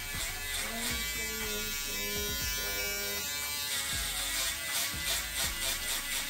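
Electric hair clippers cutting a military-style high and tight fade hum and buzz steadily up close, with the motor's pitch wavering as the blades move through hair.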